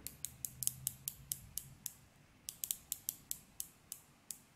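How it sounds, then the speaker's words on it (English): A quiet, steady run of crisp ratcheting clicks, close up, as the 120-click unidirectional bezel with sapphire insert on a Baltic Aquascaphe dive watch is turned notch by notch. "surrounding the dial is a 120 click unidirectional loomed bezel with sapphire insert"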